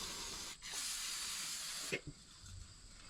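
A spray nozzle hisses steadily as it washes off the gearbox of a Bush Hog rotary mower on a farm, with a brief pause and a couple of knocks near the end, close and fairly quiet.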